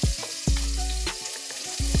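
Onions and fennel seeds sizzle loudly in a hot pan, with bright crackling bursts and a few clattering stirs or drops landing across the stretch, all without any voices.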